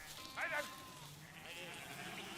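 Sheep in a flock tended by a herding sheepdog, one clear bleat up close early on, then a fainter call over quiet open-air background.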